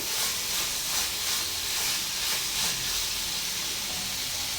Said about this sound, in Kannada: ಇದನ್ನು ಎರಡು ನಿಮಿಷ ಹೀಗೆ ಬಿಟ್ಟು ಚೆನ್ನಾಗಿ ಫ್ರೈ ಮಾಡ್ಕೊಳ್ಬೇಕು